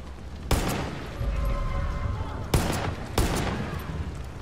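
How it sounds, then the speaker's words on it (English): A heavy gun firing in Far Cry 5 on a Chicago custom map, three booming shots spaced a second or two apart, each a loud sharp crack with a rolling tail over a steady background rumble. "There is a heavy gun."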